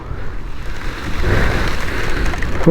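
A steady hiss of rain begins and builds, loud and close, with a brief higher tone near the end.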